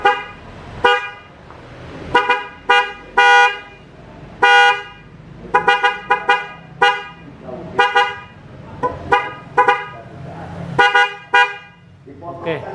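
Newly installed Denso horn with relay on a Toyota Avanza, sounding in loud, close honks of varying length, from short taps to longer blasts, in an irregular series with quieter gaps between.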